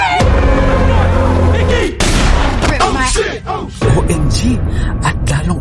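A loud gunshot bursts out in a horror film scene amid heavy booming score and rumble, followed by shouting voices and further sharp impacts.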